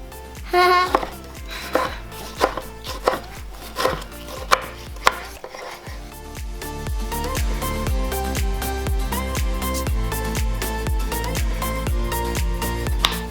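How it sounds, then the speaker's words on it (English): Rhythmic knife chops on a cutting board as vegetables are cut with a butter knife for pico de gallo, steady close taps repeating throughout, a busier run of quicker strokes in the second half. "I want to cut it with butter knife."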